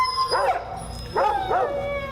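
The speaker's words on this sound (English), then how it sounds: "there was a dog crying about somebody that was gonna die" A dog howls and whimpers mournfully outdoors at night, three wavering, crying cries with short pauses between them, fairly close and clear.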